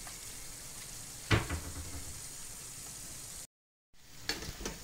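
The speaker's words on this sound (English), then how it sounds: "So by this time now, I'm going to add the beef." Beef sizzling and frying in a pot for a stir fry, a steady close hiss with a sharp burst as the meat goes in, then a brief dropout before the sizzle resumes.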